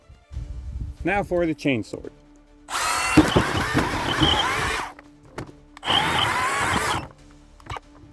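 Motorized chainsword cutting into soft armor, two loud, close, harsh grinding bursts separated by a pause, with a voice speaking briefly before the first.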